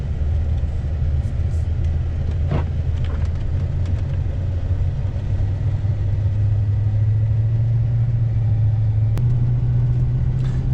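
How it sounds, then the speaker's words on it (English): A 2004 Chevrolet Silverado 2500 HD pickup with a 6.0 LQ4 V8, driving on an Indiana road: a steady low engine drone and road rumble heard from inside the cab, continuous and even, with a slight rise in pitch toward the end. "let's go for a test drive and see how this thing runs"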